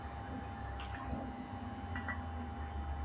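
Water is poured into rice flour to make dough for steamed modak, a steady, moderately quiet rushing stream over a low background hum.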